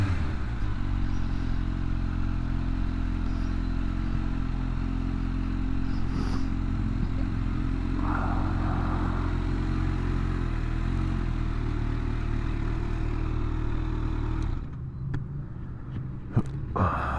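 A 2021 Kawasaki Ninja H2 SX SE+ rides along with a steady, droning engine hum and wind rush, holding a constant pitch for a long stretch before the engine note drops away near the end.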